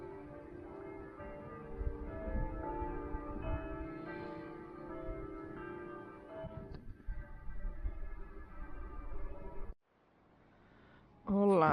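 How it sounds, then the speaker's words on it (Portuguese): A church bell rings in Bruges, a sustained resonant tolling with lingering overtones heard from a room, fading out before a brief pause and a sudden loud burst at the end. "tem o sino de uma igreja que iria me acordar"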